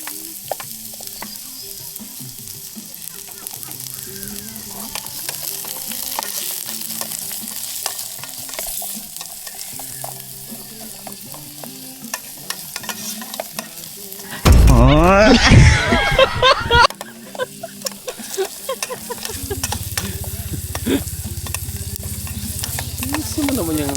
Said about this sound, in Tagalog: And syempre lalagyan natin yung bawang. Ayan, isabay na natin yung sibuyas.